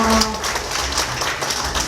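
Audience applause fills a ceremony launching a Korean Hanwoo beef checkoff board, a steady, dense wash of clapping that stays loud across the whole stretch.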